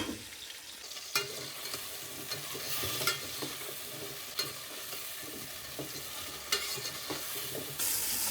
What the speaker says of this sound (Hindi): चार से 5 मिनट हम इनको भून लेंगे।